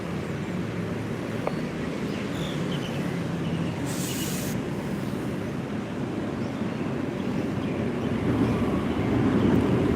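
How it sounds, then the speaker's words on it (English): Bangkok SkyTrain passing at Chitlom station, a steady broadband rumble and rush of the elevated train that fills the whole stretch and swells slightly toward the end, with no talking. "SkyTrain."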